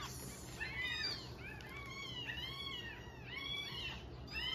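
A female cat meows repeatedly nearby in a quiet home, giving a run of several rising and falling calls in a steady rhythm, clear over faint background noise.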